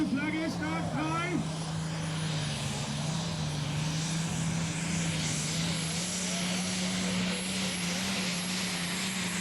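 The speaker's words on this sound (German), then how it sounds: "er bringt ihn langsam auf Drehzahl und grüne Flagge, startfrei" At a tractor pulling event, a pulling tractor's engine holds a steady loud drone that slowly climbs in revs, with a broad roaring wash over it and an announcer talking over it throughout.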